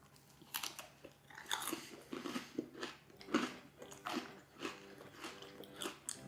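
Crisp crunchy bites and wet chewing of a cream cheese holiday treat, a series of close, rhythmic crunches repeating every half second or so with no talking.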